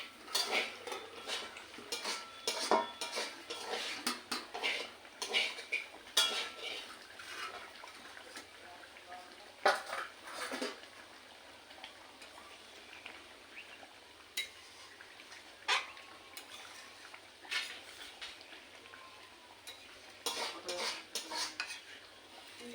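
Lid lifted off a pot of mutton curry, scattered metallic clanks, scrapes and utensil taps spread across a fairly quiet stretch, no one talking.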